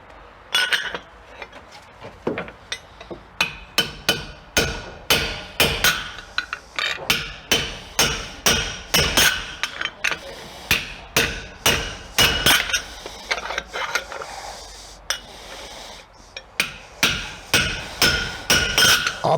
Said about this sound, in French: Et maintenant avec l'étampe, on va encore finir le trou.